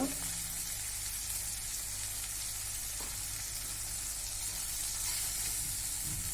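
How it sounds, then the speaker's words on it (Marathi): Tomatoes fry in a pan with asafoetida added, producing a steady close sizzle and crackle throughout with a faint tap or two. "टमाटर जरा वेळ होऊ देऊया यात टाकूया हिंग"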